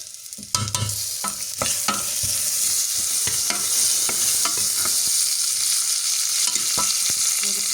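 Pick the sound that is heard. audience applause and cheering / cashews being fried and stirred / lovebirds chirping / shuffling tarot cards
cashews being fried and stirred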